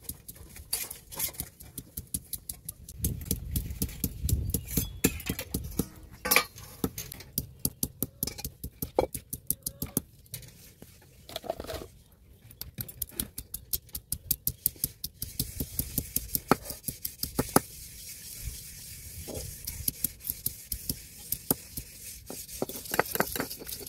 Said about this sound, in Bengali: তো আদাটা আমি সুন্দরভাবে ছিটে নেবো